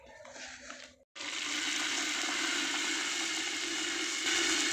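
Tap water runs steadily and fairly loud over home-grown curry leaves being rinsed for a Bihari-style handi mutton, starting after a brief pause and continuing to the end.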